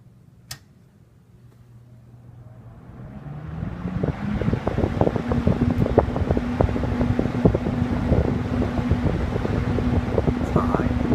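A late 1960s Wards Signature (Hunter) 20-inch box fan spins up to high speed, its whoosh building over about four seconds into a steady roaring airflow with a humming tone and light rattling ticks.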